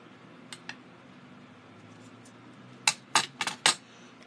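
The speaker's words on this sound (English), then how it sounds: "And then I can just trim the edges." Scissors snip through paper card edges while trimming a handmade tri-fold card: two faint cuts early on, then a close cluster of four or five crisp snips near the end, with no voices.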